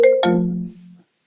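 A phone rings with a short two-tone electronic chime that decays quickly, standing alone and fairly loud in a quiet room.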